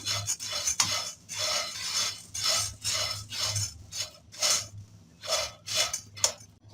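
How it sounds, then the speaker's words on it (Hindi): Metal spoon stirring puffed rice as it dry-roasts in a pan, repeated rhythmic scraping and rustling strokes, close and fairly quiet, with brief pauses between stirs. "ये राइस पफ या मुरमुरे बहुत जल्दी ड्राई रोस्ट हो जाते हैं, इसलिए हमने इसको मुस्तकिल चम्मच चलाते रहना है।"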